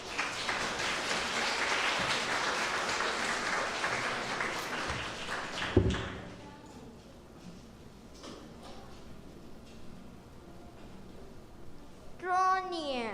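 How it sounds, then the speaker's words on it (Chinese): Audience applause welcoming a church choir and string orchestra at a Christmas concert, a dense steady clapping that fills the hall for about six seconds before dying away into quiet room sound, with a brief bright musical flourish near the end. "我们再一次用我们最大的掌声来欢迎他们。"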